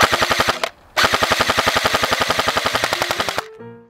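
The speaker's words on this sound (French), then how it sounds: "On peut voir que l'ancien bar tirait déjà pas mal." A rapid, close burst of full-auto fire from an older airsoft BAR 1918 replica, with a brief pause and then a longer string of evenly spaced shots before cutting off.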